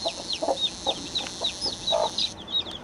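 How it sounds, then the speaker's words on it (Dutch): Newly hatched chicks peep in quick, thin chirps that repeat throughout, fairly close, with faint background noise and no talking. "Dit zijn hele mooie kuikentjes."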